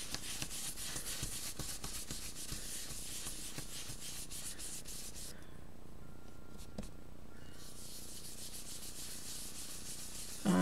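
A brush rubs Distress Oxide ink onto paper in a continuous close scratchy swishing, round and round, pausing briefly midway before resuming.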